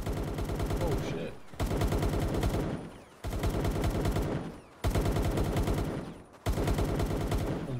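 Rattling AK rifle fire during a Palworld boss battle comes in four loud, sustained bursts, each lasting over a second and separated by short pauses.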